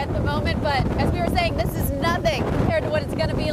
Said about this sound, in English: It's pretty windy out here at the moment